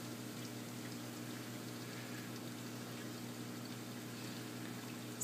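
An aquarium pump pushes salt water into the tank through a chiller line, giving a steady, quiet mechanical hum with a faint watery rush that holds unchanged throughout.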